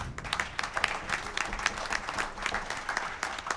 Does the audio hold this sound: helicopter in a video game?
no